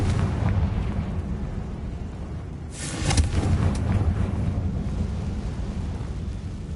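A Confringo spell blast from a Harry Potter video game bursts as one loud, sudden explosion partway through, then rumbles away over steady ambient game noise.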